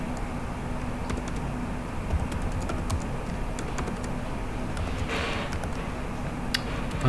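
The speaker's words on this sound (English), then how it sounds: "I'm not used to the keyboard." Typing on a computer keyboard at an office desk: a steady, uneven patter of light key clicks continues over a constant low background hum, with no talking.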